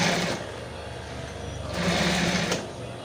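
Sewing machine stitching synthetic fabric for a round button cushion, running in a steady fast whir with two louder surges, close and alone.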